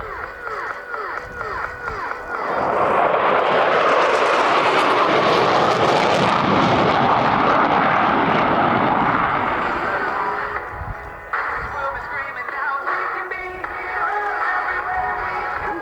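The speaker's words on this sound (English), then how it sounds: "From the right, high-speed pass." A jet aircraft makes a high-speed pass at the RAF Cosford Air Show, a loud broadband roar that swells quickly, holds, then fades into a lingering rumble.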